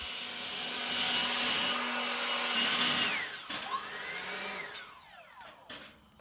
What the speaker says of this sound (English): It can easily be cleaned with a blower.